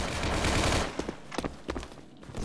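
Submachine gun fire in the Roblox game Unit 1968: Vietnam, a loud, rapid burst of shots at first, then a few separate sharp gunshots.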